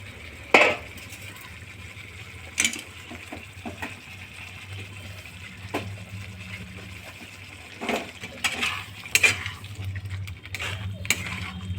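Food is stirred and sautéed in a pan with a little water for a home-cooked green chicken dish. Faint scraping and clinks of a spoon against the metal sound over a low hum, with sharper knocks now and then.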